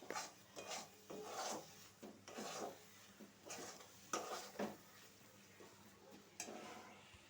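Coconut naru mixture made with powdered milk is stirred in a pan, giving repeated rasping, scraping strokes at a steady, moderate pace, fairly close and fairly quiet, with no talking.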